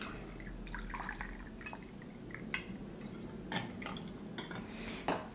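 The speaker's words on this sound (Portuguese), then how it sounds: "Agora, a seguir, adicionamos 30 ml de vermouth tinto." Red vermouth pours into a Negroni cocktail glass, a soft trickle and drips with light clinks of glass and barware, close and quiet with no talk.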